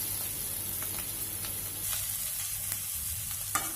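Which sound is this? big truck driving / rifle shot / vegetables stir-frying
vegetables stir-frying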